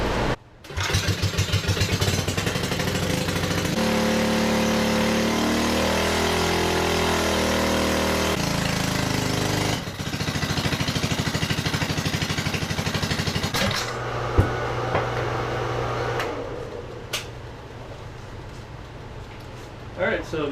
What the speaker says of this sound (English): I'm then going to run the engine, get up the temperature, and then do 3 pulls